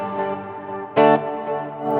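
Electric guitar through delay and reverb effects on a Line 6 Helix, sustained chords with a sharp louder strum midway, trailing repeats and a washy reverb tail, no talking.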